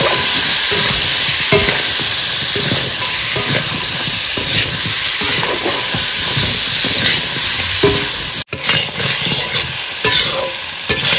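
Crab curry masala sautéing in a pan aboard a boat in the Sundarbans, with potatoes, a loud continuous sizzle and scraping stir strokes, briefly cut off near the end before resuming.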